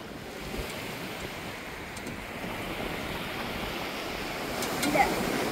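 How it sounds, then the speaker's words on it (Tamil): Ocean surf at the seashore where a family is hunting crabs among sand holes: a steady, broad wash of waves and wind noise runs throughout, swelling slightly toward the end, with no voices. "கடற்கார ஓரத்தில் நிற்கிறோம்"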